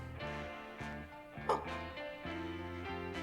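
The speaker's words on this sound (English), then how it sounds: "Stop barking at me." A dog in the indie game Life, Death, and Dogs gives a few faint, short barks over a quiet, stepped electronic music backdrop, with one brief sharper yip standing out midway.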